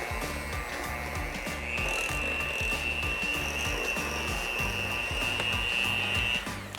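An electric mixer creams sugar into pound cake batter, a steady motor whine running throughout with a repeating churning rhythm beneath, growing louder and brighter partway through before easing off near the end.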